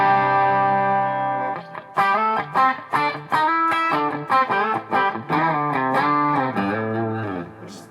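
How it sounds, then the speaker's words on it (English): Electric guitar played through a Tube Screamer overdrive model on a Boss Katana Artist MkII amp, a sustained chord ringing out, then a run of picked notes and chords with mild overdrive grit, close and loud. "But I like this tube screamer a lot."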